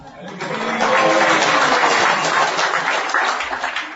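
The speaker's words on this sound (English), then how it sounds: "that was nice saying Haribol and clapping" A crowd of devotees at a temple gathering in Chennai, Tamil Nadu, claps steadily and chants together, a dense sustained wash of applause and voices lasting throughout.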